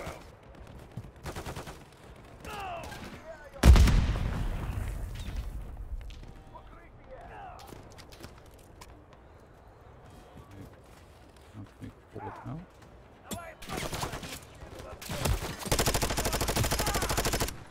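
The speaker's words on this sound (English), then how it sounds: "I hear them landing all over the place" Call of Duty MW3 campaign combat while ambushing a convoy: a loud grenade blast booms early, then scattered gunshots, and dense bursts of automatic fire return near the end, with a voice talking in between.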